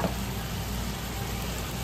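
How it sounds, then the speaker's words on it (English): Shredded beef for vaca frita sizzles and crackles steadily in a hot pan, a constant close frying hiss with no voices. "I hear the sizzle."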